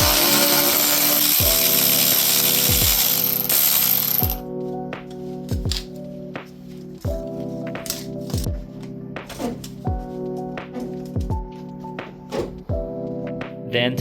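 A ratchet clicks in quick bursts while a coupler is removed from a 1JZ/2JZ engine bay, close and distinct over a steady mechanical hum, with a loud hiss at the start.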